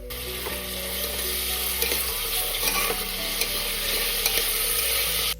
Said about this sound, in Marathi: कांदा छान सोनेरी रंगावर आला पाहिजे इतपत परतून घ्यायचा